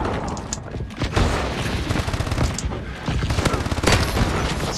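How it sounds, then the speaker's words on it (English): Rapid, near-continuous gunfire from the video game Call of Duty: Advanced Warfare in a free-for-all match, loud and dense with bursts and booms running throughout, with a voice faintly underneath. "Oh, I'm shooting like crazy. I'm shooting like a madman."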